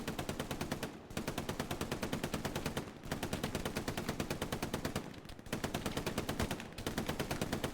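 Sustained machine gun fire in Hell Let Loose, a World War II shooter, on the Carentan map: long, evenly paced automatic bursts broken by brief pauses, steady and fairly close, with no talk.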